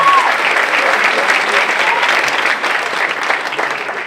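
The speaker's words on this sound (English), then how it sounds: "Give yourselves a round of applause." Sustained applause from a large audience at a student film awards ceremony, dense steady clapping that fills the whole stretch with a crowd-wide roar.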